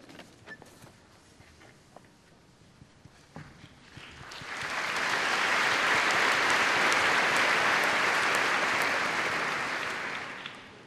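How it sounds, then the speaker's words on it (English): Applause at a University of the Arts London graduation ceremony in 2005, a large hall crowd that starts with scattered claps and quickly swells into sustained, steady clapping that lasts several seconds without voices. "It's the first round of applause this week."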